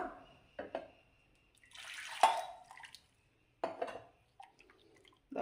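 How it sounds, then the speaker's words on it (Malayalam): Water poured into a pot of dal and brinjal curry with coconut paste, a splashing pour of a second or so in the middle, set between short clinks and brief kitchen knocks. "ഇനി നമുക്ക് കുറച്ച് വെള്ളം കൂടെ അതിലേക്ക് ഒഴിച്ചു കൊടുക്കാം"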